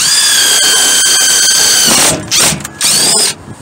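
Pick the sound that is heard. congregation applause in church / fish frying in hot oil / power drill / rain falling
power drill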